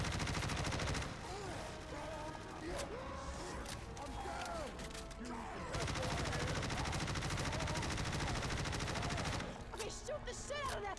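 Sustained gunfire against the Tank in Left 4 Dead 2 on Expert, with dense overlapping shots and rapid bursts, loud throughout alongside game action sounds and voice chatter.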